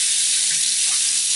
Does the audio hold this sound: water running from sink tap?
yes